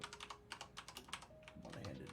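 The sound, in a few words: typing on a computer keyboard with one hand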